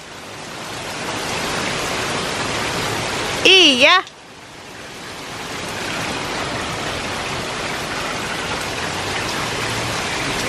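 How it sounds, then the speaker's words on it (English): Heavy rain roars as a dense, constant hiss throughout, briefly interrupted near the middle by a short spoken word. "You can hear the rain really coming down."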